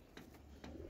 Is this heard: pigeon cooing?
yes